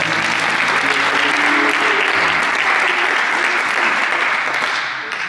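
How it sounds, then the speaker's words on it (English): A big round of applause from an audience at a dolphin encounter during a high school post-prom outing, thick sustained clapping with a low voice briefly beneath it, tapering off at the end. "Give them a big round of applause, everybody."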